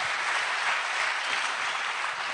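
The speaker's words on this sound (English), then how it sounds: "Give ourselves a clap." A large crowd at the launch of a Pan Africa Institute breaks into dense, continuous applause, loud and even throughout with no single claps standing out.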